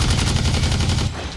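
Gunfire in the online shooter Blacklight: Tango Down: a short, loud burst of rapid automatic shots, close and sharp, cutting off abruptly after about a second.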